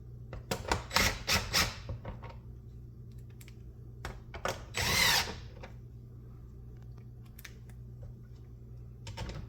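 A power drill drives screws into a Miele S7 upright vacuum during belt replacement, with a longer whirring run amid clicks and handling taps. Close and moderately quiet, with no talking.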